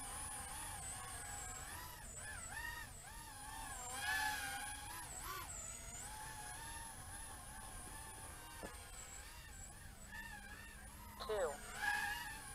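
A Skyzone S140 140mm FPV racing quadcopter on a 3S 350 battery flies with a thin high-pitched whine from its motors, warbling up and down as it throttles, and a person talks over it.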